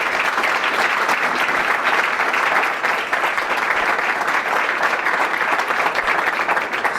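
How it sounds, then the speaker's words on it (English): An audience gives a sustained round of applause, dense steady clapping that fills the whole stretch at full loudness with no voices over it. "I think we should give them a round of applause."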